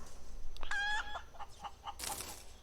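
A chicken in the space survival game Breathedge gives a short run of clucks with a squawk, close and clear, followed by a burst of scratchy noise, with no talking.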